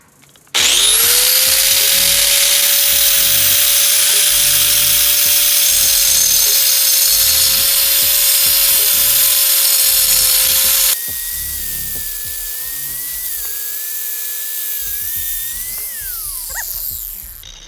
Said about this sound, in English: Now I'm just going to grind down that line with a diamond blade.